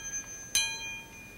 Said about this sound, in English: That sounds like a spoon vibrating because I have it hung on the end of a string